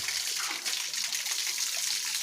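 Tap water runs steadily into a basin as hands are washed, a continuous close hiss and splash with no talking.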